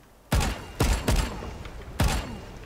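Vandal rifle with the Arcane skin firing in Valorant: four sharp, punchy shots, the second and third in quick succession and the fourth after a pause, each with a short ringing tail, loud and close with no talk.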